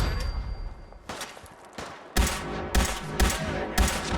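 Grenade explosions and gunfire during a Fallout 4 fight against raiders: a sustained burst of firing, then four loud, sharp blasts spaced about half a second apart, close and heavy, with no talk.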